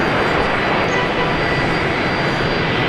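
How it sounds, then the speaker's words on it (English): A Fokker 70 jet airliner at Brisbane Airport gives off a loud, steady roar of engine noise that holds unbroken and close throughout. "So the one making all that noise down the moment, little Fokker 70."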